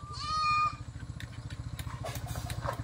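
A small scooter engine putters in a steady, fast low throb, with a brief bleating tone near the start.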